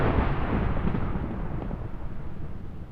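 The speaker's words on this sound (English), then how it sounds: "That's a thunderstorm." Thunder in a Minecraft thunderstorm: a sustained, deep rumbling roar that stays loud and fairly even for the whole stretch, with no voices over it.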